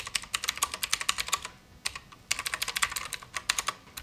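Quick bursts of clicky keystrokes on a typewriter-style keyboard among quirky office supplies, with rapid bursts, short pauses and a final flurry, close and crisp, no talking.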